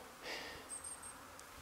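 Soft, steady buzzing of many honeybees flying at a hive in February at about 8 degrees, faint and continuous, with a few brief higher whines passing close.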